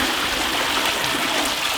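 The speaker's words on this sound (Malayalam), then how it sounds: "പച്ചവെള്ളം ഒഴിക്കണം." Plain water pours in a steady, continuous rush for a Kerala sambar, a loud close-up splashing stream with no talking.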